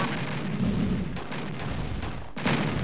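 Units in Command and Conquer: Red Alert open fire on a submarine pen, producing a dense, continuous roar of artillery and gunfire bursts, loud and sustained, with no voices.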